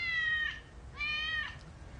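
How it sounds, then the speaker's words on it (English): A cat meows twice in a courtroom, two drawn-out, tonal cries with a pause between them, fairly close and clear over a low room hum. "Is that a cat?"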